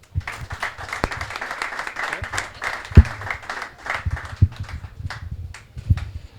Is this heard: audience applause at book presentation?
yes